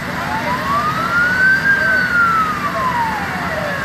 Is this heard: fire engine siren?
yes